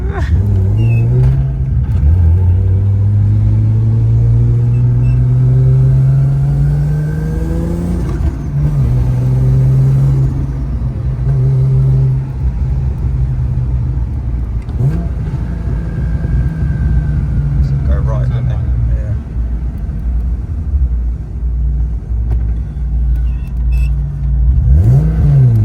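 A BMW E36 with a swapped-in Toyota 2JZ engine revs while being driven, its loud engine note climbing and falling through several rising pulls, with a steady road rumble underneath throughout.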